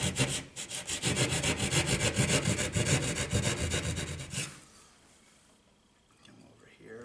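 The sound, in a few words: cutting out wall opening for old work box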